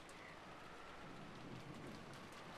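Steady rain from the visual novel Umineko: When They Cry, a dense, unbroken hiss of falling rain that holds at an even level throughout, with no voices.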